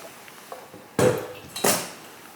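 A fork works through banana muffin batter of mashed banana, buttermilk, eggs and pecans in a bowl, giving two sharp, close clinks and scrapes against the dish with quiet gaps between.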